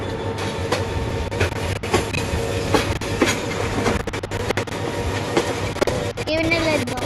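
Meghna Express train running in a Bangladesh train simulator game, a steady rumble with rhythmic wheel clicks over rail joints and brief squeals near the end, continuous and close throughout.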